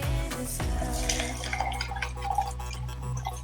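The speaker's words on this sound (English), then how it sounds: "I'm now going to pour my tea in." Tea pouring over large chunks of ice in a cup for homemade boba tea, a steady close splashing trickle with ice clinking and crackling under it, alone and without talk.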